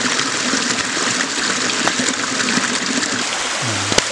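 Drinkable mountain stream water rushing and splashing steadily up close, a dense continuous flow with no talk, on the way up to Padang Kuku in Kapontori, Buton.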